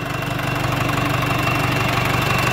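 A modified Sonalika 750 tractor with a 61 turbo, intercooler and reworked fuel pump with diaphragms idles loudly up close, its diesel knock pulsing in a fast, even rhythm without talk.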